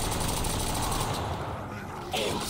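Type 11 weapon firing in Black Ops custom zombies, a dense continuous burst of rapid shots with clunky metallic mechanical rattling, loud and close, easing slightly before a final flare.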